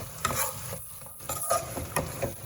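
A spoon stirs bitter gourd gravy in a pan on the stove, scraping and sloshing in several strokes over a faint steady sizzle, close and fairly quiet.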